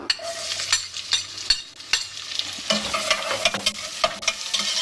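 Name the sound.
onions frying in olive oil in a saucepan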